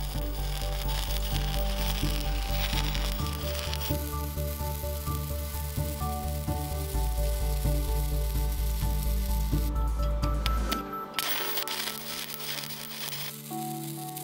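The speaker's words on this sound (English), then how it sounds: "to stick welding because I was going to be dealing with some thicker steel" Stick welding on thick trailer-tongue steel with 7018 rods gives a loud, steady crackling sizzle that runs nearly continuously, briefly breaking off and restarting near the end, close by with no talking.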